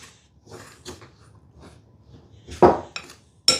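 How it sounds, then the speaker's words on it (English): A spoon stirs sage dumpling dough in a bowl, giving soft scraping and a few sharp clinks against the bowl, with louder knocks near the end. "I'm just gonna take my spoon, kind of mix that together until it forms a nice dough."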